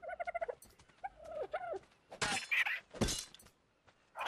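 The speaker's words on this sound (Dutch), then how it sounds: "Speer is gelijk kapot, joh." A spear breaks in ARK Ragnarok with a couple of sharp cracking, shattering bursts after short creature-like chirps, fairly faint.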